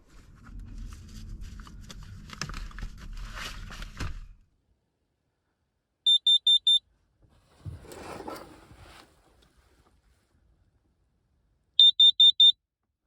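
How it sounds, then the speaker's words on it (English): A carbon monoxide alarm inside a Zafira car camper, two bursts of loud, shrill electronic beeps, four quick pulses each, spaced several seconds apart, with rustling and handling noises in between. "I'm not sure if that went off because my trousers fell in front of the alarm or it's because of CO2 again"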